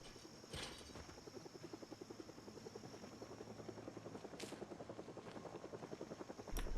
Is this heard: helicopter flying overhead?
yes